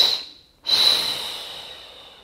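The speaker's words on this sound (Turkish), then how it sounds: "Şimdi burada 3 nefeste veriyorum aldığım nefesi." Slow, steady exhalation during a pregnancy breathing exercise, heard up close as a soft airy hiss with a short pause before a longer breath out that gradually fades.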